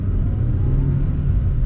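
Hyundai HB20 with a 1.6 engine pulling hard under acceleration, a steady loud low-pitched engine drone heard from inside the car, with no voices over it.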